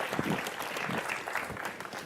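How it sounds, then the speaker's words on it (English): Audience applause at a talk on the open enterprise, a steady, moderately faint patter of clapping that lasts the whole short stretch. "Can I get a round of applause for these guys?"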